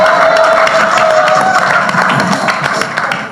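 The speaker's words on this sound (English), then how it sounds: "I'm waiting for the applause to die down." Audience applause at a Hartford education update event, a steady wash of many hands clapping with crowd noise, loud and continuous throughout, slowly thinning toward the end.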